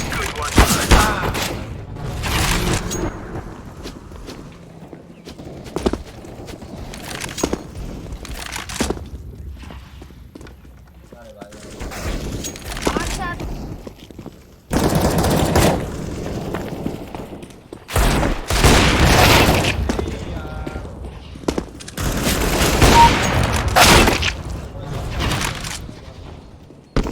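Counter-Strike match gunfire, with repeated loud bursts of shots and rapid volleys scattered throughout, plus footsteps and impacts, over faint voices of players talking.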